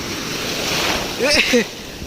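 Sea waves wash and break on the Konkan shore in a steady roar, with wind noise and a brief voice-like sound midway.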